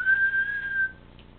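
A person whistles a single sustained, steady note that holds for nearly a second before fading, close and fairly soft.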